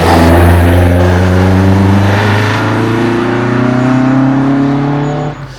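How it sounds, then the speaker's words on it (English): A restomod Alfa Romeo GT Junior with a freshly rebuilt five-speed gearbox and limited-slip differential drives along country lanes in Nottinghamshire. Its engine is loud and close, revving and rising in pitch as it accelerates, and then it cuts off abruptly at the end. "our little drive around the Nottinghamshire lanes in the little GT Junior"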